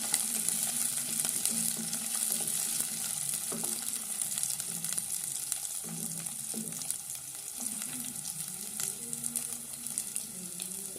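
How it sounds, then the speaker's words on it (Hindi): Green peas fry in a hot pan in a home kitchen, giving an even, crackling sizzle with repeated spatula strokes scraping and stirring, close and continuous. "ऐड करेंगे मटर को, इसको 1 मिनट के लिए भूनेंगे।"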